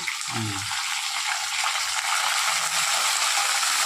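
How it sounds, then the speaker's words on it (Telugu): Dried red chillies and curry leaves fry in hot oil, giving a loud, steady sizzle and crackle close up throughout, with brief scraping of a stirring spoon. "కొన్ని కరివేపాకు కరిగాయి కదా సౌండ్ ఎక్కువ వస్తుంది"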